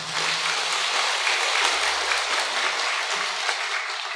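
Sustained audience applause at a religious Dharma talk by a Vietnamese Buddhist monk, a dense steady wash of clapping from a large crowd that fills the whole stretch without any voices.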